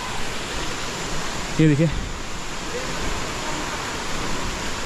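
Water rushes steadily at Neer waterfall in Rishikesh, a constant broad roar filling the scene while someone speaks briefly over it.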